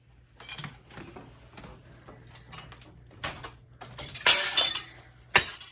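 Scattered knocks and taps, then a hammer bursts through a house front window with bright crashing and tinkling glass, ending in one sharp final smash.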